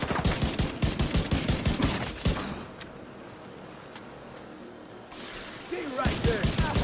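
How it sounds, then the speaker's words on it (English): Rapid bursts of automatic gunfire in Tom Clancy's The Division 2 come in two close, loud volleys separated by a quieter lull, with a voice talking underneath. "Next one's a gunshot, Agent."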